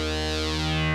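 A steady, buzzy synthesizer tone runs through a 12 dB low-pass ladder filter with resonance raised, a whistling resonant peak sweeping slowly over a constant drone.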